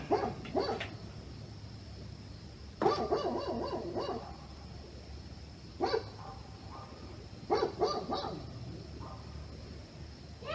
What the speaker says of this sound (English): 4 Great Dane mixed puppies.